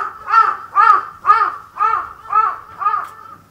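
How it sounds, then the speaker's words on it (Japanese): Crow cawing outdoors during an interview at the Kitakami Michinoku folk performing arts festival, six loud, evenly spaced harsh caws close by with no talk over them. "今カラスがですね、ちょっと邪魔をしまして"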